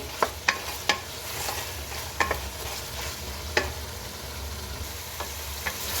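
Steady soft sizzling of green chilies, garlic and ginger frying in ghee, broken by occasional sharp clinks of a utensil stirring the pan.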